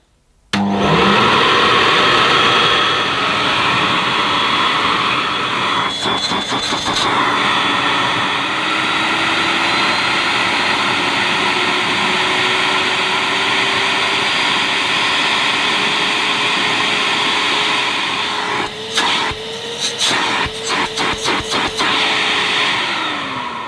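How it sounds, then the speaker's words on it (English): A loud Vax Waterjet water filtration vacuum cleaner starts abruptly and runs steadily with a harsh, whining motor roar, its pitch shifting slightly as it works, with a few clattering bumps. "It might be the best performing vacuum I've ever shown you"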